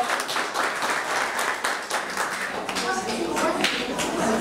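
An audience applauds students receiving DELF French diplomas at a school ceremony, continuous clapping that holds at a steady level throughout, with voices mixed in underneath.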